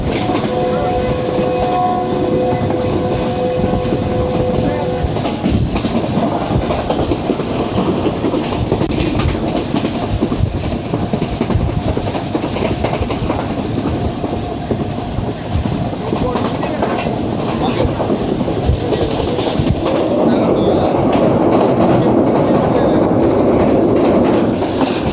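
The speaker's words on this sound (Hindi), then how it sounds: "शानदार तरीके से गुजर गई ट्रेन शोरकोट कैंट जंक्शन से।" The Shalimar Express passing Shorkot Cantt junction in Pakistan, loud and close, a continuous rumble and rattle of wheels on track throughout, with a horn tone early on and rushing wind noise near the end.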